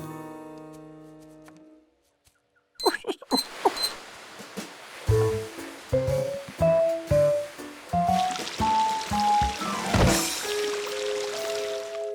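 Cartoon water splashes and squishes in short bursts, mixed with playful rising and falling musical notes after a brief soft intro.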